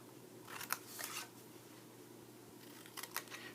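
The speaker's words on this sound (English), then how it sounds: "And then we're going to just cut each score line up." Scissors snip along the score lines of a paper Christmas candy box, in two short bursts of crisp cutting separated by a quiet pause. No one speaks.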